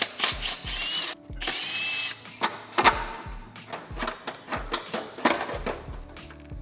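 Power tool working heat shield bolts loose on a Mitsubishi Evo X during a turbo install, with repeated short whirring bursts and ratcheting clicks close by, separated by brief pauses.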